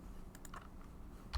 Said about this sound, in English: You can type in status.